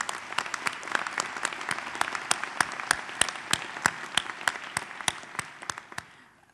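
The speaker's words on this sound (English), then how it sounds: "Let's give him a round of applause" A graduation audience at the University of Arizona law school applauds Dean Miller, a steady roomful of clapping punctuated by sharp, evenly spaced claps from one nearby pair of hands, continuing throughout.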